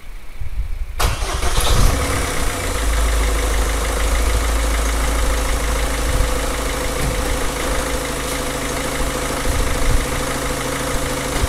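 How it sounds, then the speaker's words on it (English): A car engine cranks and fires up after a fuel injection cleaning, then settles into a steady loud idle with a deep rumble that continues without talk. "let's start the car now, start the engine."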